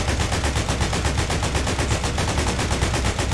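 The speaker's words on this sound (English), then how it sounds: "Get on the gun and fire it." Mounted gun in the ArmA military video game firing a rapid, continuous automatic burst, loud and close, with evenly spaced shots and no talking.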